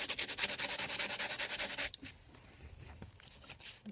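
A kitchen knife is stroked back and forth on a sharpening stone in a steady rhythm of rasping passes, close and fairly loud for about two seconds, then scattered lighter scrapes and taps.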